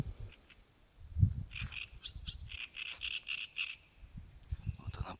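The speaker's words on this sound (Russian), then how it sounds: "Птички поют." Frogs croaking and birds chirping outdoors at a pond during crucian carp fishing, a string of repeated calls through the middle with low thumps from close by, fairly faint and with no talk.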